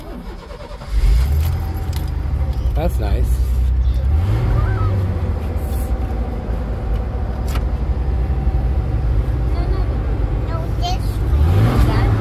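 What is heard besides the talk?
Ford pickup truck engine running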